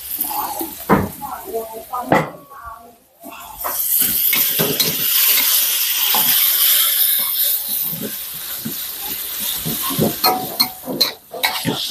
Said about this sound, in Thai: ผัดให้หอมเลย